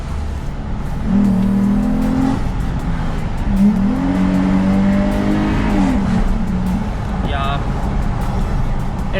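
Jeep Grand Cherokee fitted with an Apexi open air intake, floored at about 80 km/h and dropping to second gear, its engine note climbing in two strong surges under continuous road and wind noise inside the cabin.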